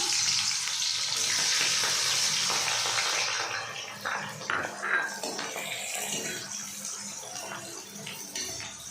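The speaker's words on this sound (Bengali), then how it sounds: "এখন আমার তেলটা গরম হয়ে গেছে, পেঁয়াজ বেরেস্তা করবো" Onions go into hot oil and fry to crisp brown for prawn pulao. A bright, hissing sizzle is loudest at first, then settles into a softer crackle with occasional pops and stirring.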